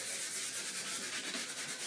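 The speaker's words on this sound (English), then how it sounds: "you're going to give your wood just a good sanding" Sandpaper rubbing steadily back and forth over a wooden board, a continuous close, evenly pulsing scratchy hiss with no voices.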